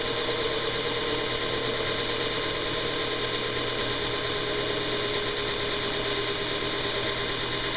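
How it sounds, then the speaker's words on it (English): A surface grinder takes a heavy cut like an end mill, giving a loud, steady broadband machine drone with a constant motor hum. A coolant mist system hisses along throughout, with no talking. "I'm taking off a pretty big bite, but I'm just letting it cut, because this operation is more like an end mill than it is a surface grinder."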